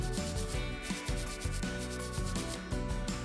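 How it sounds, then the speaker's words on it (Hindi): A brush scrubs foam cleanser over skin in rapid, rhythmic rubbing strokes, close and fairly loud, with no voices. "चलो फोम लगाएं और ब्रश का इस्तेमाल करें।"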